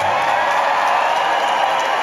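A crowd at a concert in London cheers and applauds in a dense, continuous roar that stays loud and steady throughout, with no distinct voices.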